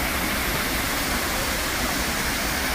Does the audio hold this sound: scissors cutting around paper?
no